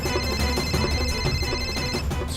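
A telephone rings in a crime drama, an electronic ringtone repeating in quick pulses over a dense, loud music bed for the whole stretch, with no talking.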